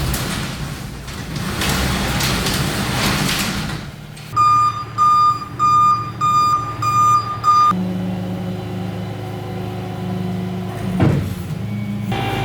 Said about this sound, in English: The tow truck is finally here.